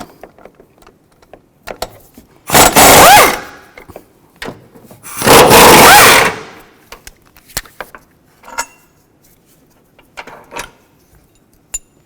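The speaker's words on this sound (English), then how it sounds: "We'll take these 2 bolts out, use a 15mm socket." A 15mm socket on a ratchet takes out engine mount bolts on a 2009-17 Chevy Traverse, with two loud bursts of rapid ratcheting clicks between scattered quieter knocks and taps.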